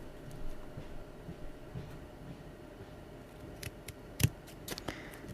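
Scissors cutting paper for a Valentine's art project, a scattering of soft, close snips that grows busier toward the end, with one sharper crisp cut in a quiet room.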